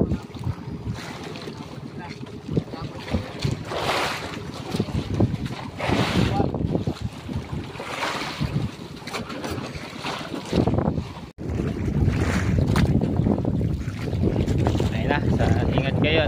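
A large fishing boat's engine runs steadily out on open water, a continuous loud rumble mixed with gusty wind noise, with people talking over it.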